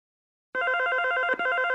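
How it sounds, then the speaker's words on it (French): A telephone bell rings steadily and loudly, starting after a short silence and sounding without a break through the rest of the clip, at close range in a home. "réponds au téléphone"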